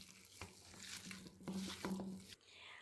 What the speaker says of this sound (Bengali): এখন আমি সমস্ত উপকরণগুলোকে খুব ভালো মতন মেখে নেব।